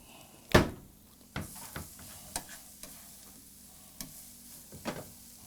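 Garlic salt being worked by hand into raw burger meat for a mega burger in a soul food kitchen, heard as soft, wet squishing and a few sharp knocks against the bowl, quiet and close with no talking.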